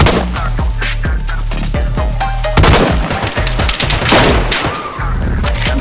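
Gunfire in a DayZ survival shootout, several sharp shots bursting over a steady low rumble, with a dense flurry of shots in the middle of the exchange.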